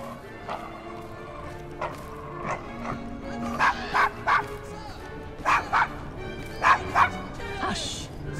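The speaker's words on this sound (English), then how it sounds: "Is your dog quite all right?" A dog in the Victorian London street scene of Assassin's Creed Syndicate gives a series of sharp yips, barks and whimpers in short bursts, close by, mixed with a character talking.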